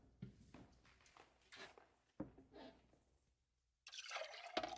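Water poured into a vessel in a quiet room during a guided relaxation session: soft, faint trickles and drips, then a louder, splashy pour at the very end.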